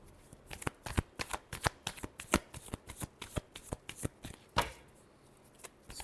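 Tarot cards shuffled close up in a quick, rhythmic series of crisp riffling slaps and flutters, about a dozen bursts over several seconds, with no talking.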